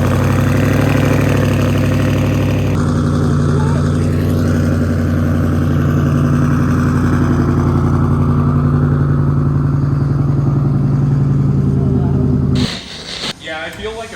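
A tuned car running on E85 fuel roars steadily on a chassis dyno, a loud sustained engine drone with rich low harmonics that holds for about twelve seconds before cutting off into clattering and fading noise.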